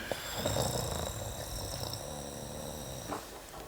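A young woman snores in bed in the Turkish TV comedy 1 Kadın 1 Erkek, a steady rasping rumble heard at a low level under a noisy, hissing background, with no talk over it.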